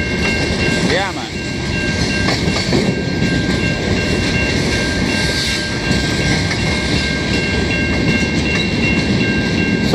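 A CN mixed freight train rolls past at sunset in Montreal, with a steady loud rumble of railcars and wheel noise throughout, plus a brief horn-like tone early on and a few voices in the background.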